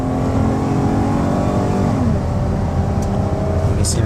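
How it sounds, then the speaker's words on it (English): A 2011 Dodge Caravan Crew wheelchair van runs steadily at speed, with a constant engine hum and road noise and a subtle pitch change as the transmission shifts partway through. "you can hear the engine run and the transmission shift"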